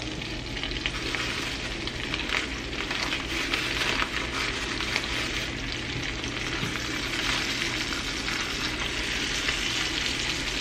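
Food browns in a hot pan, giving a loud, dense and even sizzle that holds steady for the whole stretch with no voices.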